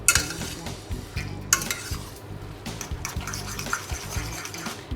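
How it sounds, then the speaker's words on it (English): Carbonara pasta tossed with egg and cheese in a pot, giving a steady wet clatter of stirring with soft scraping and a low background hum, close and continuous. "Stir it around, mix it up well."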